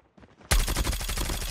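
Gunfire from the Grau rifle in a first-person shooter hardpoint match cuts in abruptly after near silence, a loud, rapid automatic burst of closely spaced shots that continues to the end.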